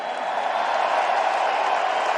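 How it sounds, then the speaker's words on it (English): A crowd at a UFC 279 event applauds for fighter Tony Ferguson, a broad, steady roar of clapping and crowd noise that holds at an even level from start to finish. "How about a round of applause for Tony Ferguson?"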